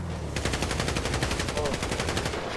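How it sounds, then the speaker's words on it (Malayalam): Sustained rapid machine-gun fire aimed at a vehicle in a shooting video game, a loud, steady rattle of closely spaced shots running without pause. "നമ്മുടെ വണ്ടി വെടിവെച്ച് പൊട്ടിക്കാൻ നമ്മുടെ പ്ലാൻ ചോദിച്ചോണേ."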